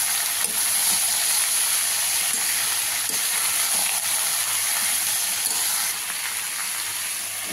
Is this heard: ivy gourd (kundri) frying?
yes